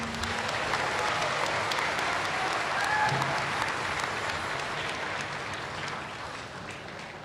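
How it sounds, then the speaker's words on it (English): An audience applauds the Manetlu Cultural Arts Program at a university debate event, a dense and steady sound of many hands clapping that carries on for several seconds and slowly fades toward the end. "let's give the Manetlu Cultural Arts Program another round of applause"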